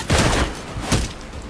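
Gunfire in the video game Gotham Knights: two loud, close bursts of rapid shots with booming low impacts, about a second apart, amid dense game noise.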